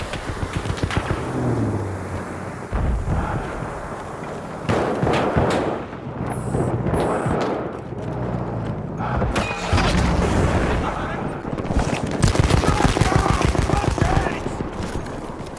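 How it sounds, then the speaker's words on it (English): Explosions and gunfire rattle across a Battlefield 1 battlefield, with repeated heavy booms and bursts of shots in dense, continuous waves over a busy game soundscape. "Bomba atıyorum."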